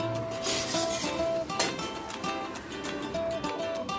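Mustard seeds, ginger and green chilli being ground on a stone slab with a grinding stone, giving a steady gritty rubbing and rasping that stays close, while soft tonal notes sound in the background.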